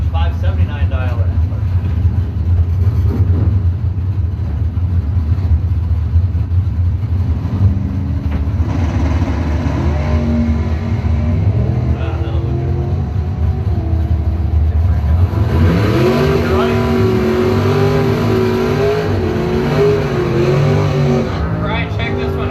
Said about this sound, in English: Tom Clark now up with the dragster for Long Lake Marine.